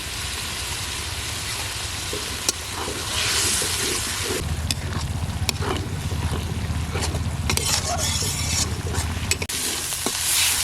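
Turmeric, chili and salt frying in a pan with a splash of water for a duck egg and eggplant curry: loud continuous sizzling under sharp scraping stir strokes, growing busier and louder partway through, no voices.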